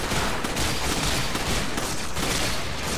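Sustained gunfire in the video game Resident Evil 5, a dense, loud fusillade of overlapping shots and bursts that fills the whole stretch with no talk over it.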